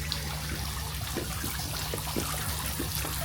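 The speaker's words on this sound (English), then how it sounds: "it's nice to hear the little splatter of water droplets on the surface there" Small waterfalls or submerged sprinkler-like jets splash water droplets onto a surface inside the caves at Wat Khao Khem, a steady wash of trickling and splattering with faint scattered drips throughout, no voices.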